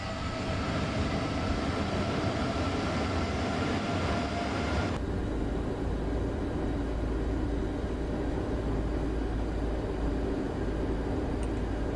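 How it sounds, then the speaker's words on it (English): Landing gear extending on an iFly 737 MAX in the P3D flight simulator, a steady loud rushing drone inside the cockpit that shifts abruptly to a deeper rumble partway through and carries on without any talk. "Let's put the gear down."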